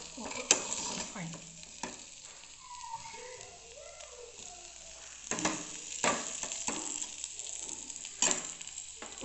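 Bitter gourd fry is stirred in a pan on the stove, a continuous close sizzle with repeated scraping and knocking of a spoon against the pan, while a voice murmurs quietly in the background.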